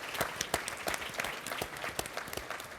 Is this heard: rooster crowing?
no